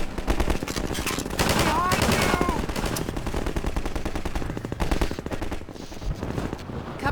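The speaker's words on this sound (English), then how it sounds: "What are you guys shooting at?" Rapid automatic gunfire from the video game Half-Life 2, a dense, loud stream of machine-gun bursts running almost the whole time alongside game effects.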